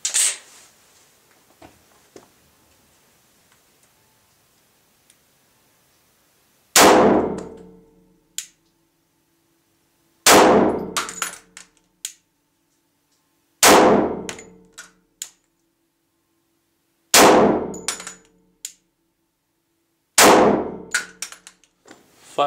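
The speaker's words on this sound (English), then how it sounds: "Now I will shoot 5 more rounds on the target with the view on the target." Glock 24C pistol firing old ammunition at a target, five sharp, loud, separate shots spaced a few seconds apart, each with a brief ringing tail, after a quiet lead-in.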